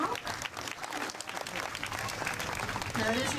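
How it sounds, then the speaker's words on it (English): An audience at a parrot show at a safari park claps steadily for a few seconds, a dense, even patter of applause with faint voices mixed in. "it is nice to see you applaud for his whistling"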